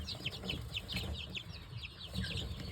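Baby chicks in a barn, including Delawares, White Rocks and Barred Rocks, keep up a dense, continuous chorus of high chirps and peeps at moderate distance over a low background murmur.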